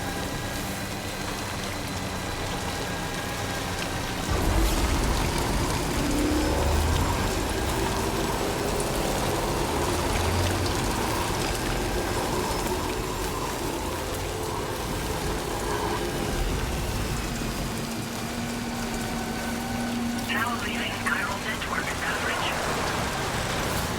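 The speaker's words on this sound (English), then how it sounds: "It's raining." Steady rainfall in the video game Death Stranding 2, a constant moderate wash of drops with faint low rumbles, continuing without speech.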